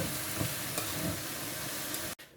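Banana blossom curry seasoned with turmeric is stirred in a pan, giving a steady close scraping and soft sizzle with faint taps from the utensil, then it stops abruptly near the end.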